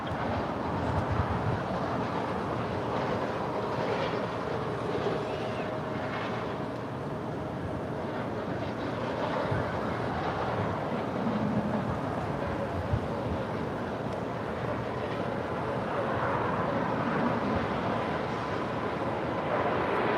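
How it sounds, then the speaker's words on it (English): A British Airways airliner rolls down runway 25 right at LAX, a steady distant jet roar and rumble sustained for about twenty seconds, without speech. "we do have the Speedbird now rolling down 25 right"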